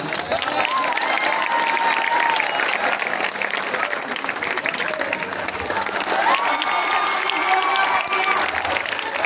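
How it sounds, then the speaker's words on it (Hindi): Children and staff in a school audience at a poetry recital applaud warmly, sustained clapping with scattered cheers and whistles rising and falling near the listener. "यहाँ पर तालियों की गूंज सुनाई दी गई"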